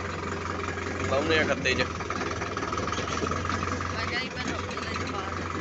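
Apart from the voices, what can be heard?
tractor engine running with mulcher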